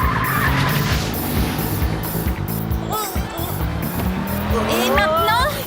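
Cartoon car skidding and accelerating hard around a corner, tyres squealing in rising, wavering whines over a steady engine roar and busy background sound, loud and close throughout.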